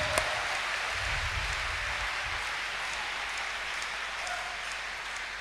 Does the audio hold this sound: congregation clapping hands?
yes